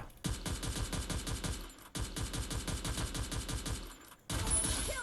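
Rapid automatic gunfire in the Free Fire mobile shooter game comes in two long, close, loud bursts separated by a brief pause, with a different shot sound at the very end.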